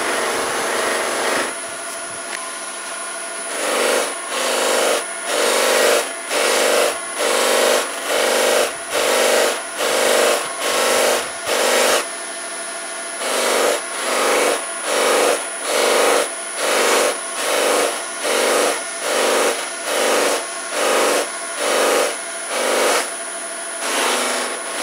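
A white diamond buffing wheel charged with Bonex compound polishes plastic, its loud steady motor whir swelling and dipping in a regular rhythm of about twenty short passes.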